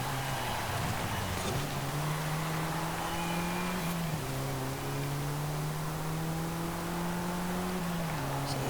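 Engine drone of a Renault Megane RS 250 racing in B Class in Forza Horizon 5, a steady hum rising through gears with brief shift dips, held loud and close throughout.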